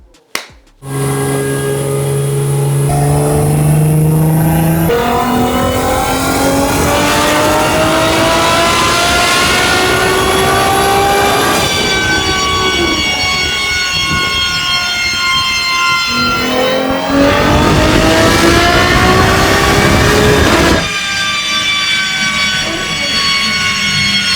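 A 2000 hp Nissan GT-R R35 on a DynoRevolt DR4-B2 chassis dyno, running race fuel, roars through long wide-open pulls, its pitch climbing steadily through each gear change, very loud and sustained.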